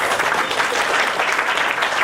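Loud, dense applause fills a wedding ceremony hall, a steady crowd clapping continuously throughout with no break.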